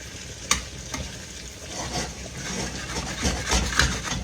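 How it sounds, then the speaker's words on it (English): Chicken pieces with livers and gizzards frying in a little oil in a pan, sizzling close by while a utensil scrapes the bottom in repeated strokes and knocks, with no talk. "And scrape that bottom and get all that goodie up as you do it."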